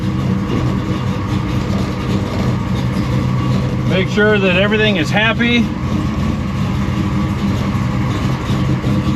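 A car fitted with a Dana 60 axle cruising around a neighborhood, its steady engine and road drone filling the cabin while a person talks briefly over it.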